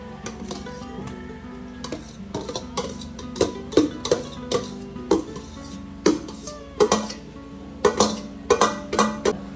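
Grated ube (purple yam) being stirred in a pan for ube halaya, with repeated sharp scrapes and clanks of a utensil against the pan at irregular intervals, close and fairly loud, no voices.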